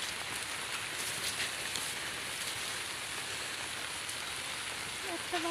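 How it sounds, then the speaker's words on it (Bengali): Steady rain falls in a village with overgrown jute fields, a constant even hiss of drops on surfaces throughout, moderately close with no clear talk. "বৃষ্টি পড়তেছে এখন"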